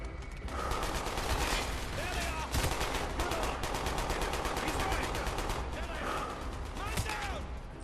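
A Sten submachine gun fires in Call of Duty: Black Ops, rapid bursts of loud automatic shots repeating across the scene amid other battlefield gunfire, with someone talking over it.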